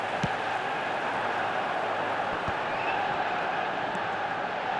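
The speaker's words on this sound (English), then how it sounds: "the crowd have tried to spark some excitement, but to no avail" Stadium crowd ambience from an eFootball match, a steady, broad murmur and roar that holds at an even level for the whole stretch, with a few faint thuds and no clear cheering peaks.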